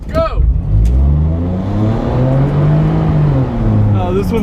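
A front-wheel-drive Saturn L300 V6 rally car accelerates hard at a rally start, its engine note climbing in loud, close revving sweeps, with excited shouting from inside the car over the roar.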